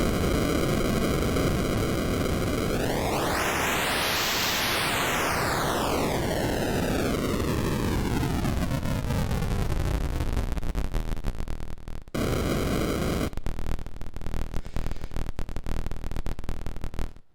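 Noise generator output from a Percussa SSP synthesizer: loud, continuous harsh noise with a tonal sweep that rises and then falls, breaking into gritty, stuttering buzz toward the end, with no talking.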